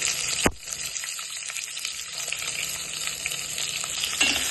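Drumsticks and onions fry in a pan with a steady, close sizzling hiss, broken by a brief stir near the start, with no voices.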